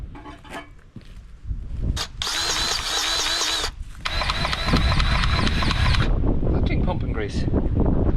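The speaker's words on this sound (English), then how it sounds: "Pumping grease." A grease gun pumps grease into farm machinery, giving two sustained whirring mechanical bursts close to the microphone, each lasting a second or two. Gusty wind noise runs underneath, and a voice speaks briefly.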